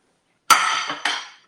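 BergHOFF Essentials Alteo stainless steel flatware clinks against a plate while eating eggs: two crisp, bright metallic strikes, close and clear, the second softer, each ringing briefly in otherwise quiet surroundings.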